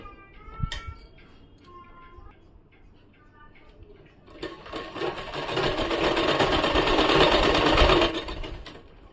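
A few clicks and ticks of handling come first, then a sewing machine stitches a salwar kameez seam in one steady sustained run that grows louder before stopping near the end.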